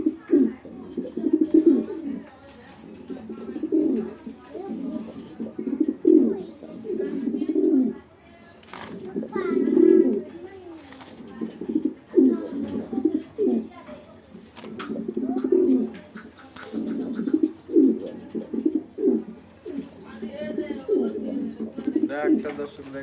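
A male racing pigeon coos repeatedly in low, throaty rolling phrases at close range, with someone speaking over and between the calls.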